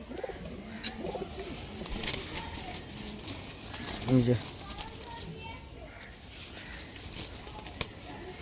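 Kept pigeons coo in a loft, including a stamping breed and a young lambardi bird, with one clear throaty coo midway amid steady background noise and faint voices.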